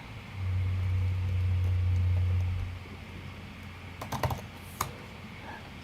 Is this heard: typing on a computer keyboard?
yes